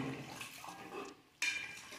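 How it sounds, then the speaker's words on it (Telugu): Water splashes and trickles into a cooking pot of cauliflower tomato curry, then a sharper burst of pouring starts near the end, close and fairly quiet. "వాటర్ పోసేసుకున్నాము."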